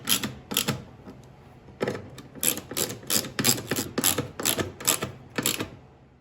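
Screws are driven into a plastic gas tank on a Tecumseh snow blower engine bracket, a ratcheting tool clicking in rapid bursts of close, crisp ticks separated by short pauses.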